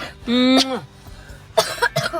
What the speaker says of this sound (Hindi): और मेरा बच्चे को खांसी लग गई